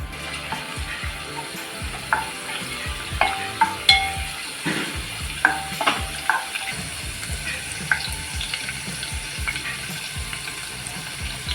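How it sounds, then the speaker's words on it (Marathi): Finely crushed garlic sizzles in hot oil, a steady close frying hiss broken by occasional scrapes and taps of a spoon stirring the pan. "आता याच्यामध्ये मी टाकते लसूण बारीक ठिसून टाकलेलं आहे थोडं लसूण आपल्याला गोल्डन करून द्यायचं आहे"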